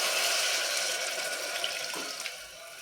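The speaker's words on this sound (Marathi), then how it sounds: "आता यामध्ये गरजेनुसार पाणी घालायचं आहे" Water poured into ghee-fried lentils in a pan, a close, steady splashing pour that tapers off near the end, with a couple of light knocks and no speech.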